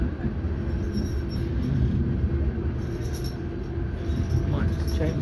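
Auckland Transport AM class electric train running on rails between Waitematā and Ōtāhuhu, a steady low rumble of wheels and carriage noise heard from inside, with faint squeals and light rattling throughout.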